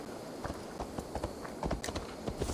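Horse hooves clip-clopping in Assassin's Creed Valhalla, a brisk irregular series of close hoofbeats at a trot, with no talking over it.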